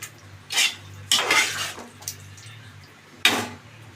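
A spoon stirs potato curry with fresh coriander in a metal pot, then the pot is covered with a lid. Several separate metallic scrapes and clanks come at uneven intervals, each followed by a sharp clatter.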